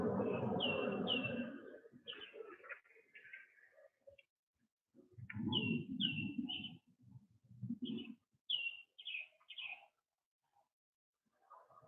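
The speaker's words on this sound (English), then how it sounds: "You hear the birds are singing" Birds chirp and sing in short bright bursts outdoors during a quiet guided meditation, faint and intermittent, with a calm voice speaking between and over the calls.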